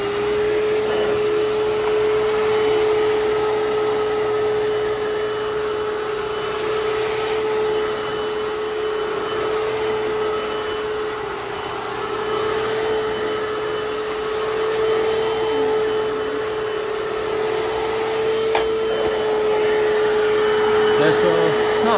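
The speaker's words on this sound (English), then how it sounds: "This Hoover Floor Mates Deluxe hard floor cleaner" A Hoover FloorMate Deluxe hard floor cleaner runs continuously and loudly with a steady motor whine and a hum of airflow throughout, with no talk over it.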